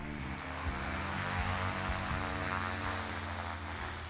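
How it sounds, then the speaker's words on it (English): A ski-equipped propeller aeroplane in Antarctica drones steadily and close by, with a continuous, even engine and propeller roar throughout. "The aeroplane has skis, so it can land on the snow."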